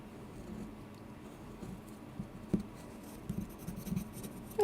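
A tool rubs and burnishes paper over thread for an alcohol ink stamping craft, making soft, close scratchy strokes with a few light taps in a quiet room.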